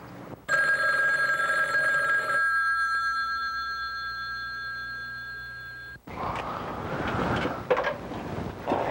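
A telephone rings with a sustained electronic tone, then cuts off abruptly; rustling and noisy background follow afterward.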